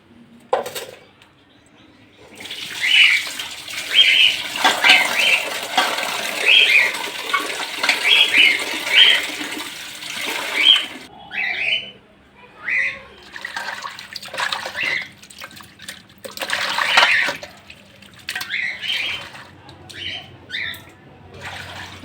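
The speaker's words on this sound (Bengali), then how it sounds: "এখন আমি মাছটা ধুয়ে নেব" Water runs from a tap while a fish is washed, splashing in uneven gushes that start and stop, with quiet pauses in between.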